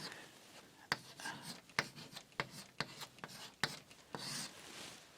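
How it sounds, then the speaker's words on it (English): Sanskrit is written by hand in Devanagari script, with soft rubbing strokes broken by regular sharp taps as each character is formed, heard up close and quiet. "I write in Sanskrit Devanagari."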